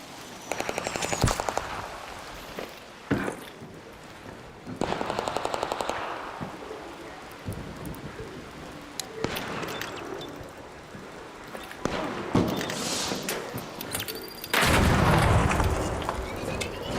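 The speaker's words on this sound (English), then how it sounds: "Who the fuck is shooting at us?" Bursts of video-game gunfire, automatic and single shots in a shooter, crackle and pop through the stretch, some loud and near, others more distant, with no talk between volleys.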